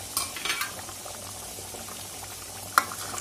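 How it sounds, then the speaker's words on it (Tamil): An egg masala gravy simmers on low heat under a lid, giving a faint, steady bubbling and soft sizzle with a couple of small clinks and no talking. "ஸோ மூடி ஒரு 5 மினிட்ஸ் அட்லீஸ்ட்டு சிம்மில் வச்சுட்டு அப்புறம் ஆஃப் பண்ணிடலாம்"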